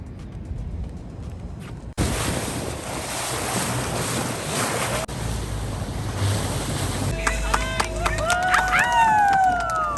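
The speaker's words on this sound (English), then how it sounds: "We are doing a boat tour this morning." A boat out on a morning boat tour, with heavy wind buffeting the microphone and waves rushing past the hull, loud and continuous. Toward the end, high whistling tones and voices come through over the roar.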